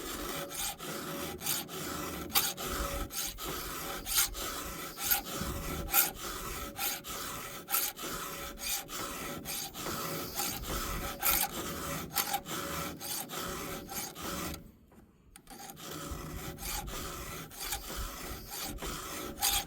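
Chainsaw chain cutters on a ported P42 saw being sharpened with a hand file, steady rhythmic rasping strokes up close that continue for a long stretch with one brief pause, no talking.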